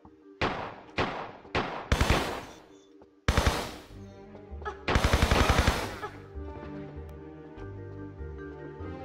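Gunfire striking the player in Tomb Raider 3, with loud, close bursts of rapid automatic shots, several short volleys at first and then a longer rattling burst, followed by lingering echo and game ambience, with no talking.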